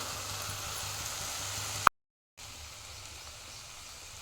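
Diced potatoes and tomatoes sautéing in a pan, a faint steady sizzle broken by a short silent gap before resuming at a softer level, no talking.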